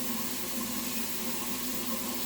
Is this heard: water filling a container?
yes